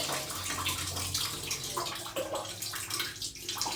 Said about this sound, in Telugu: సో లూజ్ చేసామంటే అందులో ఉన్న నీరు ఇందులోకి వచ్చేస్తుంది అనమాట.